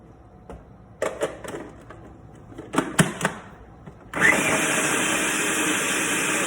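Butter is pushed down with a few knocks and clunks in a food processor bowl of almond flour for a crumbly pot pie crust, then the motor starts and runs loudly and steadily to the end.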